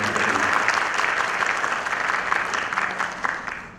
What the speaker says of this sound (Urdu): تو ایک مرتبہ زوردار تالیوں کے ساتھ استقبال کیجیے گا